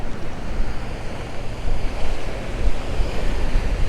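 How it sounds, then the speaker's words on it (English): Ocean surf rolling in at Oceanside, California, a steady broadband wash of breaking waves with gusty wind buffeting the microphone throughout, fairly loud and continuous with no one talking. "Check out that ocean, guys."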